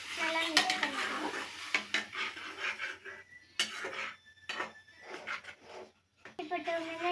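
A spoon stirs tomatoes in a metal cooking pot, giving clinking, scraping knocks of utensil on metal in irregular bursts with short pauses, while a voice speaks intermittently nearby.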